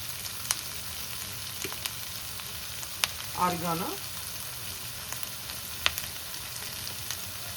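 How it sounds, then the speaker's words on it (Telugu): Vegetables such as bell pepper and carrot fry in a pan for pasta, giving a steady low sizzle with a few soft clinks and a brief stir midway, heard alone without talking. "సో ఇప్పుడు ఇది కొద్ది బాగా ఫ్రై అవుతున్నప్పుడు దీంట్లో ఆరిగానో"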